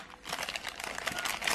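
A plastic bag crinkles and rustles as it is opened, a quick run of close, crisp crackles growing slightly louder toward the end.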